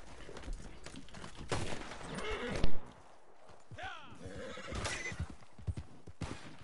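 A horse whinnies in Red Dead Redemption 2, a sharp rising neigh mid-clip among hoofbeats, a loud burst of gunfire and general game noise.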